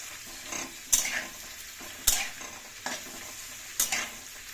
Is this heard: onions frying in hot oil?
yes